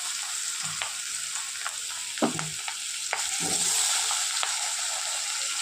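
Potatoes fry in oil left over from frying chela fish. A steady close sizzle runs throughout, broken by a few sharp stirring clinks and scrapes, with no speech.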